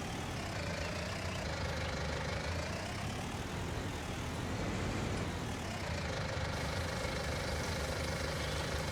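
Tractor engine idling during a sunflower harvest, a steady, continuous low rumble with even loudness throughout and no talk.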